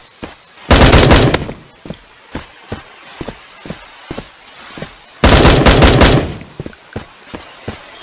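Automatic gunfire in the video game Bullet Force: two long, loud rattling bursts separated by a string of sharp single shots spaced evenly apart.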